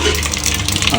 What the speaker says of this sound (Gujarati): તો મિત્રો આ બાજુ તેલ ગરમ થઈ ગયું છે, અંદર નાખી દેવું રહી. નાખી દેવું થોડું જીરું